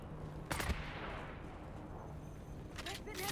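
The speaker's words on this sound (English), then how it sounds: "Who's shooting at me?" Gunfire in the video game Dune, sharp bursts of shots at the start and near the end over a quiet background, fairly distant and faint.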